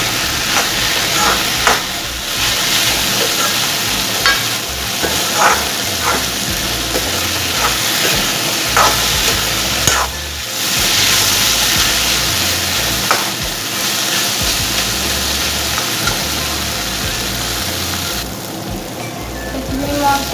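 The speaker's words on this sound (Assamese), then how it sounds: "এইখিনি মই পুৰা ফ্ৰাই কৰি পেলালোঁ।" Egg frying with potato, tomato and dal in a pan, a loud continuous sizzle and hiss with steam, broken by repeated scraping strokes of a spatula stirring the mix, heard up close.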